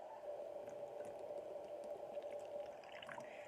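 Red wine vinegar poured in a steady stream into a homemade oil-based salad dressing, a continuous liquid trickle that stays even and close throughout with no talking.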